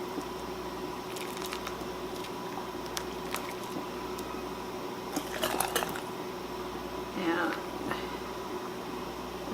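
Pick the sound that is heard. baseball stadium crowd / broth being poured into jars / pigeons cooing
broth being poured into jars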